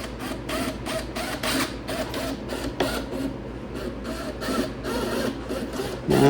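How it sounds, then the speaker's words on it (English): A corded hammer drill runs in short, loud bursts close by, its motor starting and stopping in a steady stuttering rhythm. "so I'm using the corded hammer drill"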